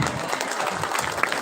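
A school event audience in Palembang breaks into applause, a dense, continuous crowd clapping at moderate loudness, with a voice faintly audible beneath it.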